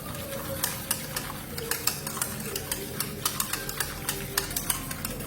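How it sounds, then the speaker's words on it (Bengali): Gram flour (besan) batter for Gujarati kadhi being stirred: rapid, regular tapping and scraping of a utensil against a bowl, a steady close rhythm with no talking. "মিশিয়ে নেব যাতে কোনোভাবেই বেসনটা থেকে না যায়, পুরোটা মিশে যায়।"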